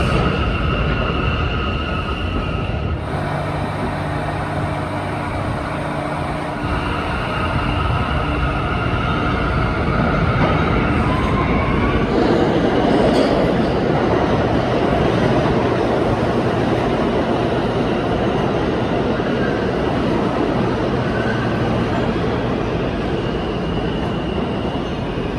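New York City subway E train in motion, a loud continuous rumble of wheels on track with rattling cars and occasional metallic squeals, heard from inside the carriage.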